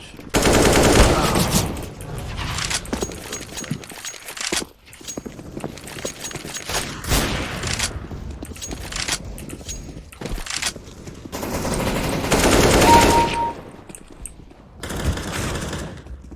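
Gunfire in a shooting video game, with repeated loud bursts of rapid automatic shots and single cracks spread through the whole stretch, close and dense with short pauses between volleys.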